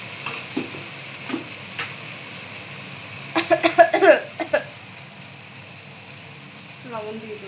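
Spices with chopped tomato, turmeric powder and salt fry in a pan for a potato curry. A soft sizzle runs beneath a few scattered scrapes, then a quick cluster of louder stirring clatters.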